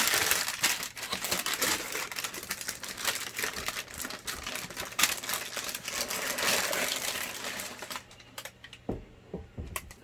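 Tissue paper from an Air Jordan 1 sneaker box being crinkled and handled up close, a dense run of soft crackling and rustling that thins out toward the end, no talking.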